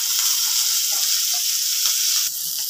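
Chili and garlic go into hot oil with tempering spices, producing a loud, steady hiss and sizzle throughout that drops slightly in level near the end, with no one talking.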